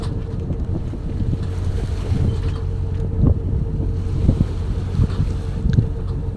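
Sailboat under sail at sea, with steady wind buffeting the microphone, waves washing against the hull and creaking gusts throughout, no voices.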